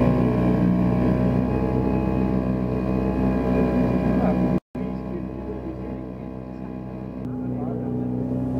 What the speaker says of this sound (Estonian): Kuigi mootori hääle ja haisu põhjal hinnates oli ka uuel mootoril tükk tööd